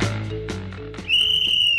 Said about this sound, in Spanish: Suena el silbato puntapié inicial